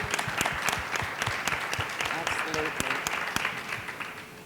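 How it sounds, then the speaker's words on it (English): An audience at a panel discussion on traffic stops and policing claps steadily for several seconds, a dense wash of hand claps that stays even and fairly close throughout, with no voice over it. "Can we get a round of applause for that legislation?"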